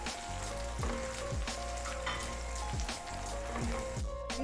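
Green chillies and chopped raw mango fry in hot oil for a pickle, making a dense, steady sizzle and crackle throughout with a few faint stirring scrapes, fairly quiet and close.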